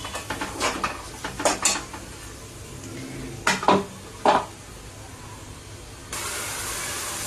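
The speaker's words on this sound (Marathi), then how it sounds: "हा मसाला मी फ्राय करून घेणार आहे" Spice masala for a prawn chutney is fried in a pan: a spatula clanks against the metal in a few sharp knocks, and a steady sizzling hiss rises near the end.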